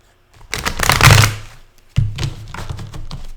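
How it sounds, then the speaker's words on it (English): A deck of cards is given a big riffle shuffle up close, a dense burst of rapid flicking clatter lasting about a second, followed by a second shorter run of softer card rustling. "I'll give it a big shuffle"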